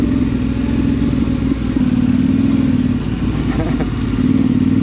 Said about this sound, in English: so basically to go enduro riding with your T7.